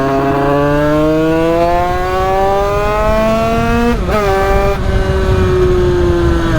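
A 70cc motorbike engine, running a bit rich at high revs, screams loud and close on a mountain road, its pitch climbing steadily, briefly dipping and recovering before winding up again.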